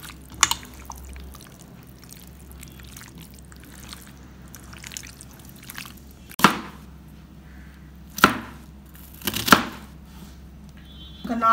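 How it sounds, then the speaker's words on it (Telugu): A knife cutting onions into large pieces on a board, a few sharp separate chops spaced several seconds apart against a quiet background. "ఆనియన్స్ తీసుకుని ఇట్లా పెద్ద ముక్కలుగా కట్ చేసి"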